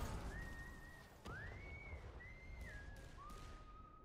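A series of sustained whistled tones, some rising and some steady, sounding one after another over a soft background hiss.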